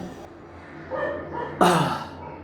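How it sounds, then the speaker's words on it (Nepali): A neighbour's dog lets out a couple of short barks at a distance, with the second louder and sharper, against a quiet background. "छिमेकीको कुकुरले लास्ट स्टप हानिरहेछ"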